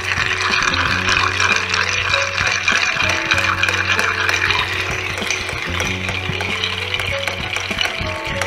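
An Old Fashioned cocktail is stirred with ice in a mixing glass, giving a continuous close clinking and rattling of cubes against the glass with a steady swirling rhythm.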